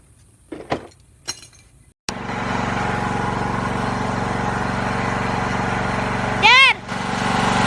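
A Troy-Bilt 7-speed Pony riding lawn mower runs steadily and loud after a sharp start, its engine drone holding throughout, with a brief clinking squeal near the end and a few knocks beforehand.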